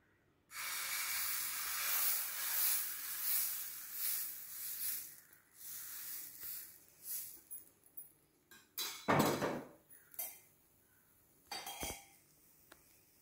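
Adai batter hitting a hot pan releases a loud hissing sizzle that slowly fades, followed by scattered clinks and scrapes of a ladle against the pan.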